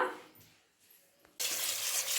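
Country chicken meat, about two kilos, being washed with water in a vessel: after a quiet pause, a sudden loud splashing hiss of water pours and churns steadily.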